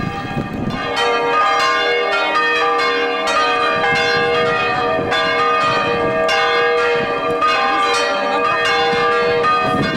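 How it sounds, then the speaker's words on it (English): Church bells peal continuously and loudly, with overlapping strikes ringing in a steady cascade of rich, sustained tones. "the bells once again pealed out."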